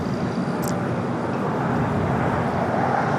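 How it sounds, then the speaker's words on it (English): Aeromexico Boeing 787 Dreamliner on its takeoff roll down runway 25 right at LAX: a brief burst of steady, loud broadband engine rumble that holds level from start to finish, without speech. "Air Mexico Dreamliner now rolling down the 25 right"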